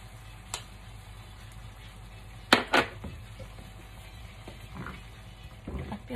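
Sweet and sour pork stir-frying in a pan gives a soft, steady sizzle with a few sharp scraping or clinking strokes near the middle and light stirring noises toward the end.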